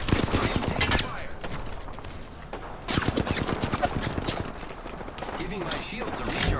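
Rapid, dense gunfire in a video game during a firefight, with repeated sharp shots and bursts running nearly continuously at close range throughout.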